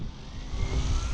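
A small RC helicopter in flight, giving a steady droning engine and rotor whine with low rumble, continuous and moderately close, no speech.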